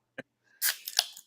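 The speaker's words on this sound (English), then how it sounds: "it's time to crack a beer" A brief sharp click followed by a quick hiss and fizz, a beer can tab snapping and gas escaping, close and short.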